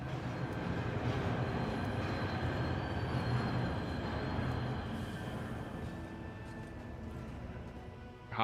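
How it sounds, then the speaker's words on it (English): A train in the video game Warhammer 40K Rogue Trader: a steady, dense rumble of rolling rail wagons with a faint metallic whine on top, continuous and fairly close, easing slightly toward the end, with no talk. "Hopping on the train."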